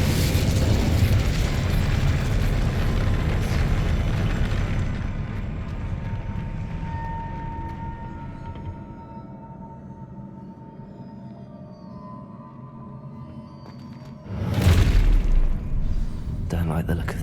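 Spell-casting explosions in the video game Hogwarts Legacy: a loud, rumbling blast fades into a low tail, then a second sharp burst lands near the end.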